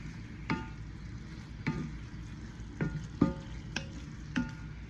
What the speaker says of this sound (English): Just stir it in there, get all that sauce coated in it.